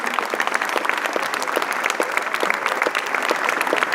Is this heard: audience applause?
yes